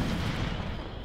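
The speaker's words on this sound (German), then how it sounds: "Da explodiert's!" An explosion in the Left 4 Dead 2 video game, a loud, heavy boom with a deep low-end rumble that fills the moment and slowly fades, with no talk over it.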